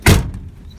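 A heavy car door on an old Impala swings shut in front of a garage: one loud, solid thud followed by a brief fading rumble.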